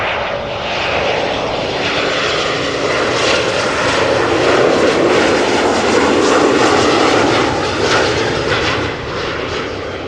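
A German Airways Embraer 190 jet arriving from Glasgow at Amsterdam, a loud, steady engine roar holding close throughout with no voices.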